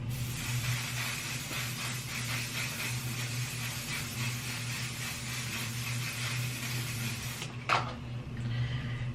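A One Size On Till Dawn mattifying waterproof setting spray hisses in a steady close burst lasting several seconds, then cuts off with a brief clack as the bottle is handled.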